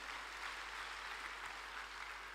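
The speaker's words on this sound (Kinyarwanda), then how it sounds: "Dukomeze tubaha amashyi cyane." Audience clapping at a worship gathering, a steady, faint wash of many hands applauding together throughout, with no distinct voices above it.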